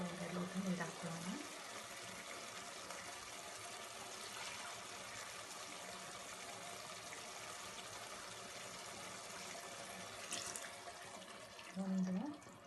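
Water, six to six and a half glassfuls measured for mutton biryani, poured into the pot in a steady continuous stream that runs on at a moderate level.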